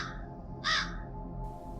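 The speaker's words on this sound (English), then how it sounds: "A ragged black bird perched on the fence, watching me. Its beak opened and it cawed again." A crow gives a single harsh caw near a fence, loud and close, with quiet background hiss before and after.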